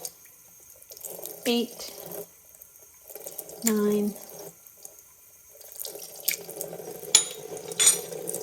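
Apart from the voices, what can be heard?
tablespoons of water poured into sugar for bee candy board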